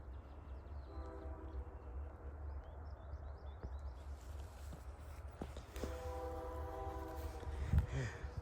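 A southbound CN freight train approaches at Queensville Sideroad, heard as a steady low rumble from a distance with a long, faint, sustained horn tone that swells toward the end.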